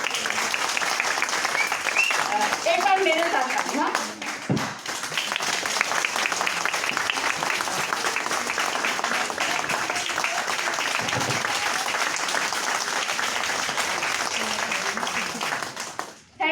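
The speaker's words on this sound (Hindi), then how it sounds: "तो एक जोरदार ताली, बहुत जोरदार ताली।" Loud sustained applause from an audience fills the hall almost without pause, with brief dips and a voice speaking over the clapping near the start before it swells again.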